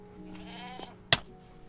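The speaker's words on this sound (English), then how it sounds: "I believe this little guy is a screaming goat." A screaming goat in Minecraft lets out a wavering, nasal bleat. It is followed by a sharp, loud shriek burst that cuts off quickly, close and clear over quiet background.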